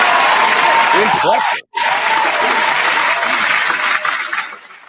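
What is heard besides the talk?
round of applause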